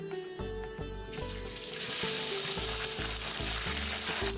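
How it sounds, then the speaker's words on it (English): Three large chunky chopped onions hitting two tablespoons of hot oil for a hotel-style sambar, a bright continuous sizzle with frying crackle and a few soft stirring knocks, close and alone. "We are going in with 3 large chopped chunky pieces of onions."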